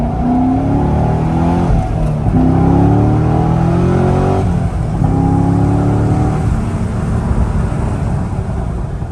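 A C6 Corvette pulls hard through its long first gear, the engine note climbing steadily in pitch and loudness, easing briefly, then rising again; close, strong and continuous, with no talk.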